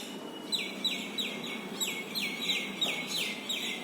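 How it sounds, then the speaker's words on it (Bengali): Morning birdsong: a bird repeats short, bright descending chirps about every third of a second, fairly close, over a faint background murmur, with no talking. "কি সুন্দর সকাল থেকে পাখিদের ডাকাডাকি শুরু হয় এবং রাত পর্যন্ত থাকে।"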